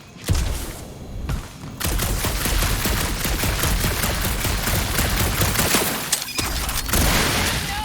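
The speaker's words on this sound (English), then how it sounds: "that aimless shooting isn't gonna scare the monsters away, right?" Sustained shooting in Marvel's Guardians of the Galaxy, a dense, loud stream of rapid shots running almost nonstop after a few opening blasts, with no talking.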